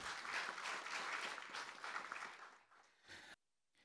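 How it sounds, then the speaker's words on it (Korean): A symposium audience on the candlelight spirit and reform tasks of the Moon Jae-in government breaks into dense, sustained applause that fades toward the end and then cuts off abruptly. "뜨거운 박수 서로에게 보내주시 고맙겠습니다"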